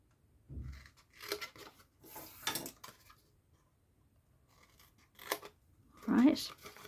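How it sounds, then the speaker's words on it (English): Scissors cut squares out of paper for a treat box craft, giving a few short snipping and rustling bursts spread across the moment, with a voice speaking between the cuts. "you're going to cut away these 2 squares completely"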